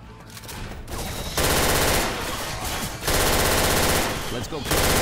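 Automatic gunfire mowing down zombies in Left 4 Dead 2, rapid loud machine-gun bursts coming in three long sustained volleys with short gaps between them.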